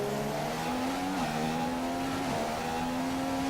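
A Formula 1 race car engine in a Bahrain racing video game drones at a steady high pitch, with its tone dipping briefly twice as the car brakes deep into corners, then holding constant and loud throughout.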